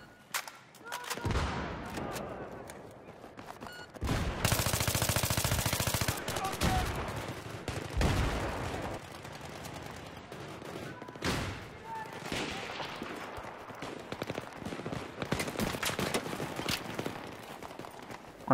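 Sustained light machine gun bursts in a Battlefield 3 match on the Noshahr Canals map, loud and close, with dense rapid fire between about 1 and 6 seconds and further scattered shots after, mixed with game effects and some speech.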